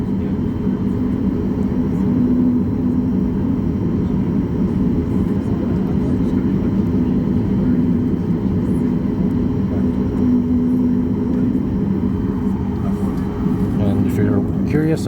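An Air Canada Boeing 737 MAX 8 airliner on its takeoff roll, heard from inside the cabin as a loud, steady engine roar and rumble that holds throughout, with faint talk over it near the end.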